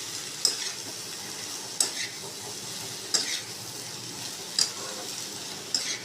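Spice paste of ground mustard and ginger being stir-fried in a pan for sukto, a steady soft sizzle with periodic sharp clicks of a spatula scraping and stirring, close and continuous.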